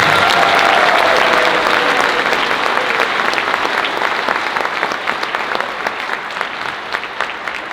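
A large audience applauds continuously for a middle school select band at a concert, a dense wash of clapping that stays strong and slowly tapers off.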